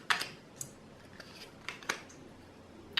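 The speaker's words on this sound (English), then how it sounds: "So we'll just have a little shuffle here for the collective." Tarot cards being shuffled, a run of soft, scattered flicks and light snaps at close range with short pauses between them, fairly quiet with no talk.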